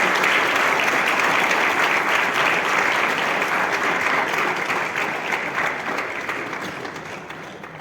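A lecture audience claps for the speaker of a memorial lecture, a dense, loud wash of hands that holds steady for several seconds and then slowly tapers off.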